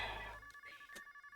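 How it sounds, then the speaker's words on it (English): A telephone rings in a Pokemon video game, a synthesized electronic tone sounding in a few short repeated pulses, alone with no talk. "Phone? Who could be calling?"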